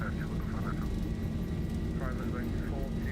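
A Boeing 737-800 makes its takeoff roll in a flight simulator, with a steady, loud jet engine roar running under someone talking.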